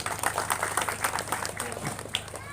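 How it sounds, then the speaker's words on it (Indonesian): Audience applause in a hall at an Islamic boarding school gathering, a dense patter of many hands clapping steadily at moderate volume and slightly distant, with background voices mixed in. "Tepuk tangan dulu."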